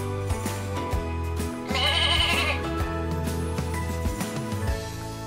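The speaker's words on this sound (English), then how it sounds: "Meh! What animal says meh? Goat!" A goat bleats in a farmyard, with several wavering cries close and loud that rise to a shrill peak near the middle of the run.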